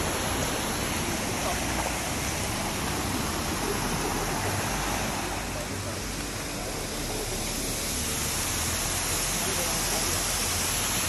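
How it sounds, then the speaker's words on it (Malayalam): Water crashes down a waterfall at Thangal Para in Vagamon, Idukki, a steady loud rush of spray and churning water that fills the whole stretch without a break. "അപ്പോ നല്ലൊരു വെള്ളച്ചാട്ടം"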